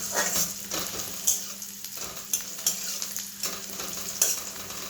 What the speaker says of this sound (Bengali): পেঁয়াজটা একটু লাল করে ভাজতে হবে